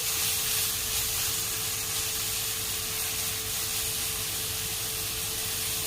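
Ginger garlic paste sizzles and fries in a pan for a mixed vegetable sabzi, a steady, dense, close hiss of oil spitting that stays even and unbroken throughout.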